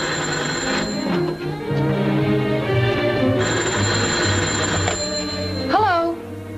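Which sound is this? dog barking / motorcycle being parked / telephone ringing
telephone ringing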